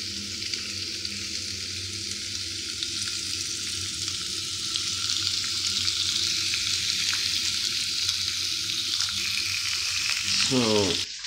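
A T-bone steak sizzles steadily in a hot pan, a continuous close frying hiss that grows slightly louder toward the end, where a brief clatter of handling is heard.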